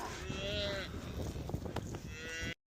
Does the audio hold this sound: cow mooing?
yes